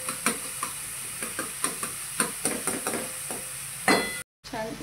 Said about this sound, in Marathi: कांदा आपल्याला छान असा गोल्डन कलर येईपर्यंत भाजून घ्यायचा।